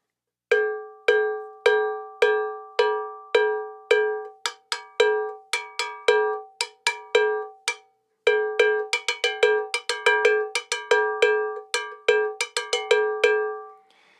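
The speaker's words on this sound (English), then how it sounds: "right now we're just going to call it the large cowbell. Here's what it sounds like." A large cowbell is struck repeatedly with a synthetic stick, first in a steady beat, then in a faster, busier rhythm, each hit ringing with a bright metallic clank.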